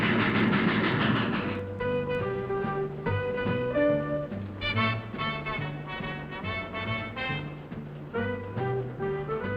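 A 1950s passenger train rolls along the tracks, with a rhythmic, rumbling clickety-clack of wheels under a tonal musical score.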